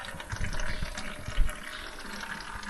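Oil draining from a Case IH 380 tractor, a steady close liquid pour and splatter with a brief louder gush midway, continuous and alone without talk.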